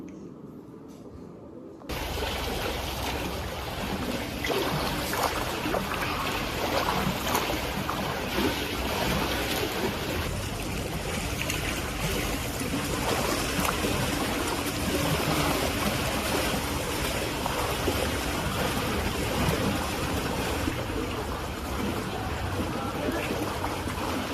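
Continuous splashing and rushing water during a 45-minute swim, loud and close, with turbulent churning that stays steady after an abrupt start and runs without pause.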